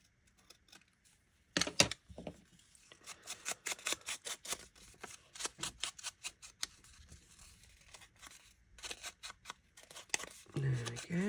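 Scissors trimming paper ephemera for a handmade journal, a quiet close run of short crisp snips in uneven clusters, followed by a brief rustle at the end.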